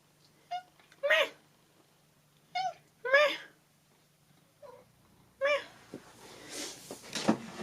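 A cat meows several times in short, distinct calls spaced a second or two apart, close and clear against a quiet room, with some faint voices or movement toward the end.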